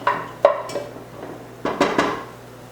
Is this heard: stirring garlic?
yes